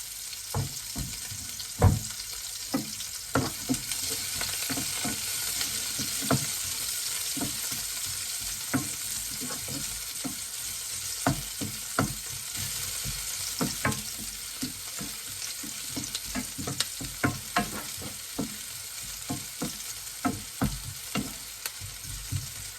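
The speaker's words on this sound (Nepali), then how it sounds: "त्यो सँगसँगै प्याजलाई हालिदिने।" Onions fry in oil for a cauliflower and buffalo meat curry, producing a constant close sizzle punctuated by frequent spoon scrapes and knocks against the pan.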